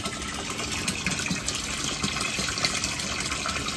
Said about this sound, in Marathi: एकचा पाईप आहे, फुल फास्ट पाणी आहे